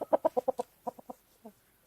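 Chickens cluck in a quick run of about six sharp calls, then a few more spaced clucks, fairly close and loud with nothing else over them.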